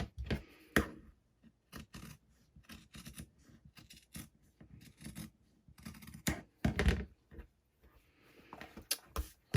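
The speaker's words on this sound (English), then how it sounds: "now I'm going to trim that last corner" Scissors trimming the corner of an Ultrasuede bib, a quiet close series of irregular snips and soft crisp cuts through the fabric, with no talk.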